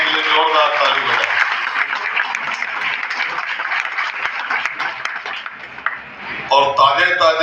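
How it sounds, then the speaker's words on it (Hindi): An audience claps steadily at an Agrawal community honouring ceremony, a sustained burst of applause between stretches of someone speaking over a microphone. "अनुराग अग्रवाल जी के लिए जोरदार ताली बजाएं"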